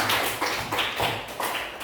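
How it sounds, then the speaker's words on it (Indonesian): A classroom of students claps together in a quick rhythmic pattern, several distinct bursts of synchronized hand claps in a row, fairly close and moderately loud. "Tepuk tangan dulu"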